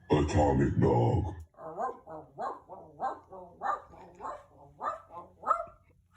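A person imitates a dog with a rapid run of short bark-like yips following a brief loud vocal burst, close and steady in rhythm.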